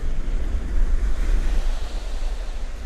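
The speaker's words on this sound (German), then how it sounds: "weil der Wind jetzt gedreht hat und aus dieser Richtung kommt" Strong wind gusts buffet the microphone on the Greek coast, a steady roar with surf-like rumble and no pauses throughout.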